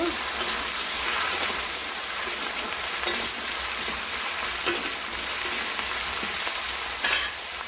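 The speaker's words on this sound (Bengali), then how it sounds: "কচু দিয়ে দিচ্ছি একটু নেড়ে নেব" Taro and banana flower fry in a pan with a continuous close sizzle and hiss, a few soft stirring knocks, and a brief louder clatter near the end.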